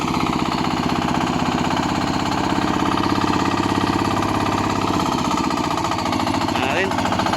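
A hand tractor engine runs with a loud, rapid pounding chug that stays steady throughout, close by, with someone talking over it.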